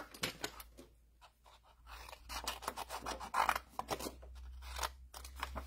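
Scissors snip through paper, cutting flower shapes from a craft kit for a treat box, in a close series of quick crisp cuts and rustling paper, irregular in rhythm, with no voices.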